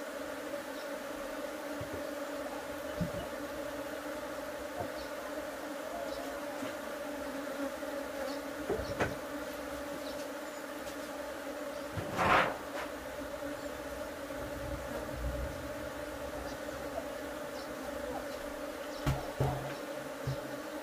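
Honeybees drone in a steady, dense buzz around an apiary hive during a colony split, a constant close hum with occasional soft knocks and one louder clatter from the hive boxes.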